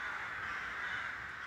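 Rooks cawing in a town give a continuous harsh chorus of overlapping calls, moderately distant, without talk.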